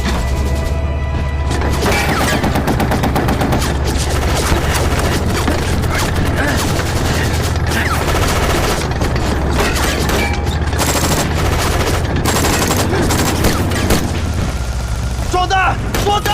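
Cannon and gunfire fill a battle scene in snowy terrain, loud dense blasts and rapid shots over a constant rumble, with shouted voices mixed in.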